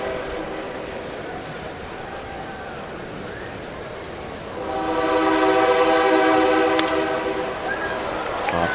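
A train passes near a ballpark during a Rangers at Mariners baseball game, its horn sounding as a sustained harmonic blare that swells partway through over steady crowd and broadcast ambience.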